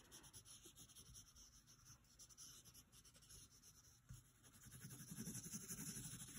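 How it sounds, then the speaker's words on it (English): A pencil sketches loosely on paper, giving soft continuous scratching and rubbing strokes, close and faint, growing a little fuller toward the end. "I'm just pushing my pencil around, using it very loosely"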